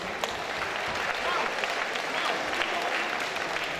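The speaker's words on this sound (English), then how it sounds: "massive round of applause for both of these guys in the ring, please" Steady, full crowd applause ringing through the arena for two kickboxers after an 80kg semifinal bout, continuous and loud throughout.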